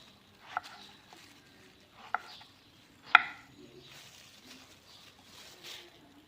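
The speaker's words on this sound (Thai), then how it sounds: "เพื่อนๆ หั่นตามชอบเลยนะเจ้า อันนี้ปน้อมหั่นแบบนี้เนาะ" A knife slices luffa gourd on a board in a home kitchen for a luffa and egg stir-fry. A few sharp, close knocks come at irregular intervals over quiet room noise.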